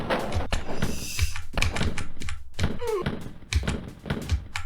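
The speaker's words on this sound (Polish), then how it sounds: "Oni też czasem otwierają drzwi." Wolfenstein 3D gameplay with repeated low thuds and sliding mechanical bursts as doors open, mixed with gunfire-like clatter and a voice speaking over it.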